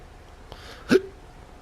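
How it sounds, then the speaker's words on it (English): A single short hiccup, a sharp gulping catch that stands out once against a quiet room hum, with a faint click shortly before it. "Me and my hiccups today."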